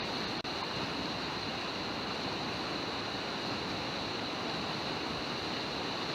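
The Elk River flowing, a steady broadband rushing of water, close and even, with one brief click near the start and no voices.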